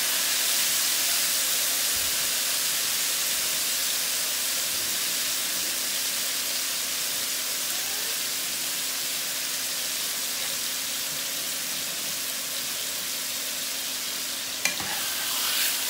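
Thin pork chops brown in a lightly greased pan with a steady, even sizzle and hiss. A short clatter comes near the end, and no one speaks.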